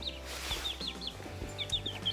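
Young Easter Egger chicks peep on a farm during morning chores, with a series of small, high chirps repeating close by over low background noise.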